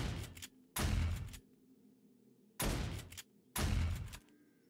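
Old pump shotgun firing in the 7 Days to Die video game: three loud, broadband blasts spread across a few seconds, each with a short decaying tail, standing alone with no talk.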